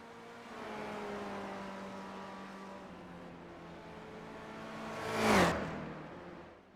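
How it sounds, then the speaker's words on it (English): A race car in a sim racing video game on the Detroit Belle Island track, a steady engine drone with a quick rising whoosh and revving sweep near the end, moderately loud. "Richard Shive, he's out on track in that Whitlam Group back number 79 machine."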